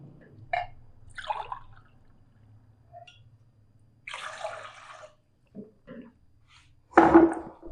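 Water poured over half a kilo of jaggery in a cooking pot to make syrup, heard as a few short splashing bursts with quiet gaps and a louder final pour.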